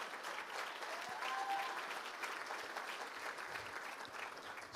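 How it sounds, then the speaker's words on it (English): A crowd applauding steadily, a dense wash of clapping hands that holds at an even level throughout. "Big round of applause."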